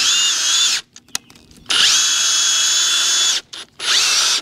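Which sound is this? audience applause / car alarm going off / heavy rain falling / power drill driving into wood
power drill driving into wood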